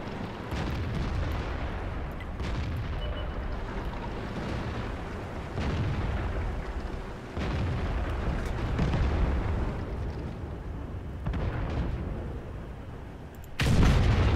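A tank is destroyed in World of Tanks amid a dense battle soundscape, with rolling explosion rumbles, artillery-like booms and crackling debris throughout, ending in a loud close blast.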